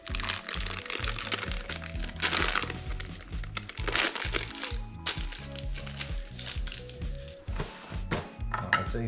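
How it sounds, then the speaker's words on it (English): Stiff paper wrapping crinkles and crunches as it is peeled back from a six-year-old Mangalitza pork ham, with steady rustling close by over a low background hum. "I'm just going to take this paper covering back a little bit"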